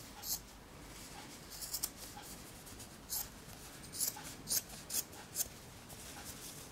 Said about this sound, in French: Je coupe sur toute la longueur.